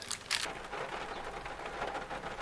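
Rain falls steadily outside a parked car, a soft, even hiss with a few sharper drops landing on the body.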